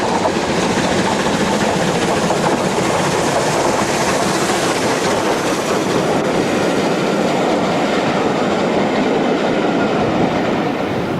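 Canadian Pacific steam locomotive hauling a charter train from Birmingham to Poole past Leamington, a loud continuous roar of running gear and rolling carriages passing close by with no break.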